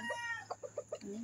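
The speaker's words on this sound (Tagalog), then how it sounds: "Ayan ang ingay ng manok." A chicken clucking nearby in a quick series of four short, sharp clucks, ending with a drawn-out call.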